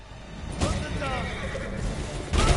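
A horse whinnies during a mounted charge in Ghost of Tsushima, a loud neigh with hoofbeats and game noise around it, as a voice talks over the action.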